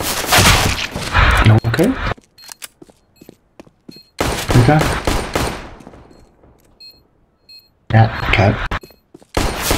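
Loud bursts of automatic gunfire ring out in Counter-Strike: Global Offensive on the Dust II map, three clusters of rapid shots separated by quieter gaps with faint beeps, while a player briefly speaks.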